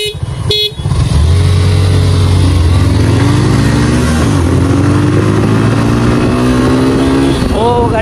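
Suzuki Gixxer and Yamaha FZ V3 motorcycles accelerate hard from a standstill during a 0 to 80 speed test on a road, engines roaring loud and close with rising pitch through gear changes, a brief horn-like tone near the start.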